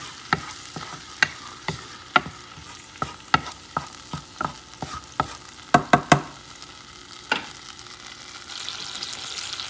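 Minced garlic sautéed in a pan for Puerto Rican arroz con pollo, with a spoon scraping through it in a steady series of sharp, close clicks over a soft, constant sizzle, then a denser burst of quick scrapes before hissing takes over.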